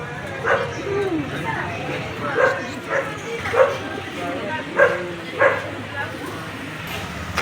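A thin dog gives a series of short yips and barks at roughly one-second intervals, moderately close, over a muffled background of people talking at a pigeon race.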